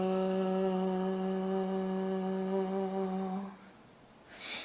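A single voice holds a steady, buzzing voiced 'tho' tone with the tongue between the teeth for about three and a half seconds, then cuts off, leaving a brief soft breathy hiss.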